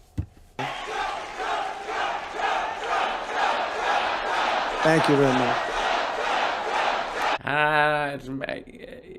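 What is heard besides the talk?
crowd cheering at a speech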